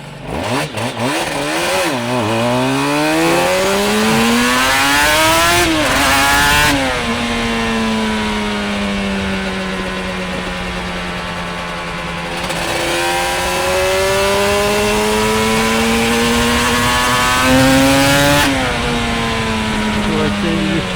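A Suzuki RG500 two-stroke motorcycle accelerates hard from a quick start, its engine screaming up through the revs with rising pitch and gear changes, loud and close.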